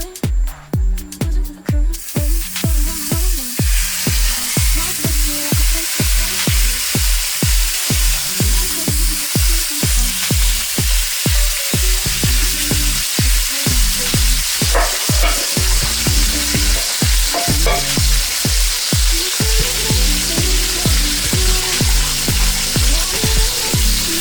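Trout frying in a skillet, giving a loud, steady sizzle that continues throughout, with repeated rhythmic scraping or tapping as the fish is moved in the pan.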